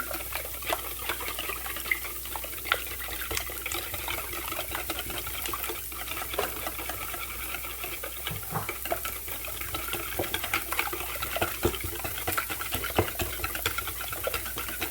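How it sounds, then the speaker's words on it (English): Ingredients are whisked in a bowl with a quiet, steady scraping and clicking texture and small repeated taps, close and faint with no talk. "I'm gonna do some whiskey business and whisk this all up."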